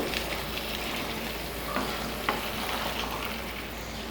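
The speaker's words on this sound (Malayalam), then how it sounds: "ഫ്ലെയിം കൂട്ടി വെച്ച് ഒരു പത്ത് മിനിറ്റോളം തന്നെ ഇളക്കിയെടുക്കണം" Open House chilli chicken frying in a pan over a high flame while being stirred, a steady close sizzle broken by a few soft scraping strokes, with no voices.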